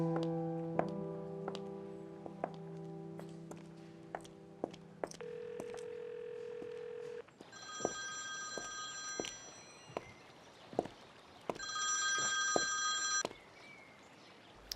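Telephone sounds while a call is placed in a dramatic indoor scene: tonal beeps and dial-like tones, then bursts of bright electronic ringing around the middle and end, fairly quiet and without talk.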